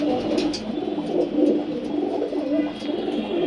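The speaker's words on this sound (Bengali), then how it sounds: "আর এই যে নিচে কিছু কবুতর আছে।" Pigeons cooing in a loft of racing pigeons: several birds giving soft, low, rolling coos that overlap continuously at close range, with no voices.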